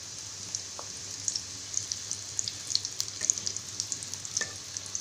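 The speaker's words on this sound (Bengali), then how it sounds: "আমি এখানে মিডিয়াম তেল ব্যবহার করছি, আপনারা চাইলে ডুবো তেলে এটাকে ফ্রাই করতে পারেন।" Chicken samosas frying in a medium amount of oil: a steady close sizzle with a rapid patter of crackles and pops, no voices.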